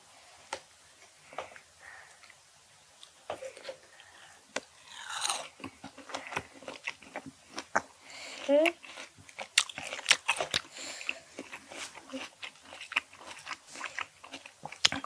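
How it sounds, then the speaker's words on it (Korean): A young child and an adult eat juicy melon, with crisp bites and wet chewing clicks arriving in irregular bursts close to the microphone while they talk over them. "메론 먹을까?"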